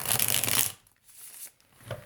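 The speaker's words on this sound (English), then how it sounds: "Meaning sometimes as I shuffle, you will see cards fly out of the deck or flip over or kind of scoot their way out." A deck of cards is riffled in a short, loud, close burst, then a few softer scraping shuffles follow.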